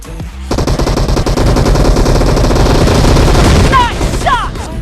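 Dense automatic gunfire and repeated shots from the battle royale video game PUBG, played on a Micromax In Note 1 phone, loud and continuous throughout with brief chirping effects near the end.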